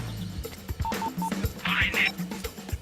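Phone keypad dialing tones give three short, evenly spaced beeps as someone calls repeatedly, mixed with brief clicks and a faint voice in the background.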